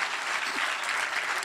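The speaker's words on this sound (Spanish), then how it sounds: "Denle un aplauso al Señor si lo cree." A church congregation applauds at a Spanish-language service, a steady, loud wash of clapping from many hands that fills the whole moment.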